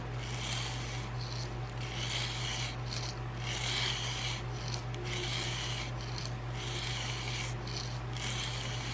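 Steady rasping strokes of a Havok Hoss 150 knife blade drawn lightly across sandpaper taped around a dowel, repeating in an even rhythm over a constant low hum, close and fairly quiet.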